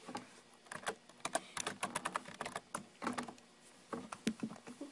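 Fingers tap quickly on a computer keyboard, close up, a fast irregular run of crisp clicks with short pauses, heard alone without talk.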